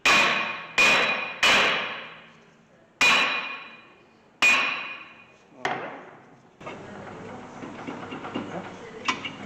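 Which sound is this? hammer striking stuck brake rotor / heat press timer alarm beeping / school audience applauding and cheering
hammer striking stuck brake rotor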